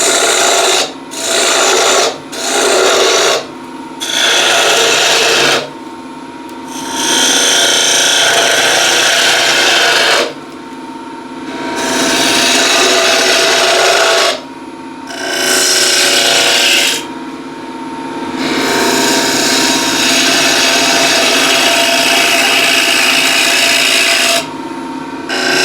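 Wooden piece being hollowed on a lathe with a turning tool, repeated scraping and rasping bursts broken by short pauses, then longer continuous cuts, loud and close.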